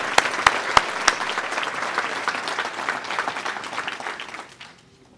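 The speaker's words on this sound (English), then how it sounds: "So please give them a giant round of applause for their commitment." An audience at a charity's annual meeting applauds the event sponsors, a few sharp close claps at the start leading into a full round that thins out and stops near the end.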